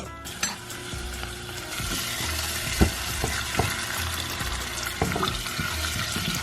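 Garlic sizzles in hot oil in a pot for bean beef stew, a steady crackling hiss close by with a few stirring knocks and no talking.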